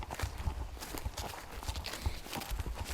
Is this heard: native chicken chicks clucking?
no